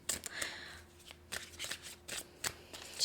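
Tarot cards being shuffled during a card reading, a series of soft riffling bursts and papery flicks in irregular clusters, close and fairly quiet, with no talking.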